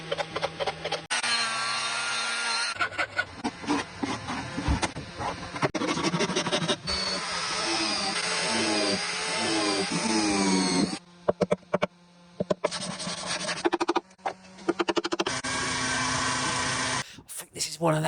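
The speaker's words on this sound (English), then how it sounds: "I literally don't know what I'm sanding." Sandpaper or a scraping tool works over the body of a cheap guitar to remove scratches, giving rough, uneven rasping strokes close up, broken by short pauses, with someone talking over much of it.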